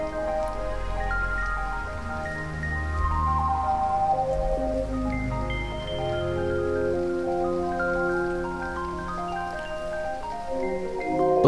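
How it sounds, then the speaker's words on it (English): Rain in the video game Proteus, a soft wash of falling drops and gentle drips under layered, tonal game ambience, quiet and steady throughout. "this definitely does have a very, very soothing effect, this rain, because I happen to like rain"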